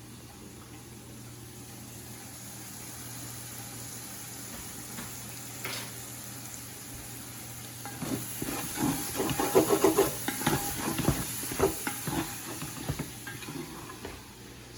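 Vegetables with thyme sweat in a pan, a soft steady hiss that swells into louder sizzling and stirring scrapes partway through, with someone talking briefly over the cooking.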